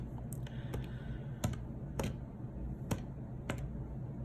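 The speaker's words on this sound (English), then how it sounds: "type that in on your calculator" Calculator keys pressed while entering numbers for a probability problem. About eight quiet, irregularly spaced taps sound close over a low room hum.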